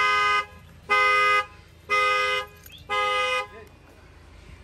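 A 2021 GMC truck's alarm sounds its horn after the glass is struck, giving four loud, evenly spaced honks about a second apart, each lasting roughly half a second, with quiet gaps between.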